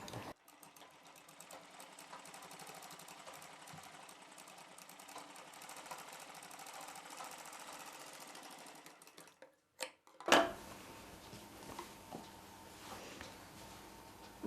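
A sewing machine stitches contrasting-colour piping along a joint seam on a long full blouse. It runs close and steady for about nine seconds, then stops with a couple of clicks and a thud, followed by softer handling noise.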